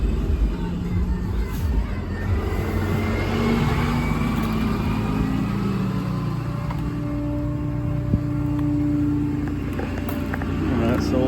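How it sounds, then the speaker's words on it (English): A 2018 RAM 5500 4x4 mechanics utility truck idles steadily with its power take-off engaged for the crane and compressor, a close, continuous mid-pitched engine drone with faint background voices. "Let's go ahead and kick the PTO on."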